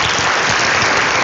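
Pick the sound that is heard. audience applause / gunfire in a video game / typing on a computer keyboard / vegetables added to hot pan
audience applause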